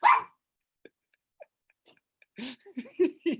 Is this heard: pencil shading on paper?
no